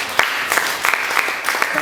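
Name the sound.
congregation applauding in church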